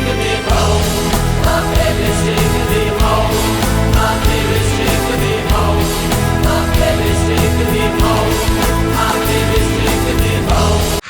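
A recording with a chorus of voices singing joyfully over drums and bass, loud, dense and continuous throughout.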